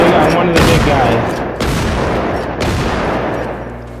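Gunfire in the video game Generation Zero: three loud, evenly spaced shots, each sharp and booming with a rumbling tail, over constant background noise.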